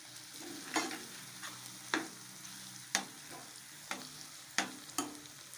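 Potatoes sizzle softly in a pan with garam masala while a spoon stirs them, giving about six sharp scraping strokes spaced roughly a second apart over a low, steady frying hiss.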